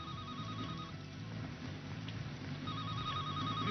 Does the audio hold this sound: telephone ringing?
yes